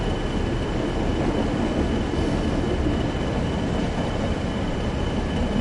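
Class 66 diesel locomotive running in Train Sim World, a steady, loud rumbling roar with rail and wagon noise, constant throughout with no talking.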